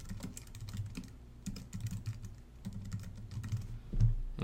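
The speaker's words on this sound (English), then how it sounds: "I'm just going to go ahead and type in some information" Typing on a computer keyboard while entering information into a website form: quiet, close, irregular clicking of keys in quick bursts with short pauses, alone without talk.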